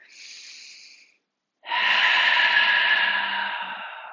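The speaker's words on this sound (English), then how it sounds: "Breathing out through the mouth." A slow breath out through the mouth during a core workout, a brief airy exhale, a pause, then a longer, louder, breathy exhale, close to the microphone.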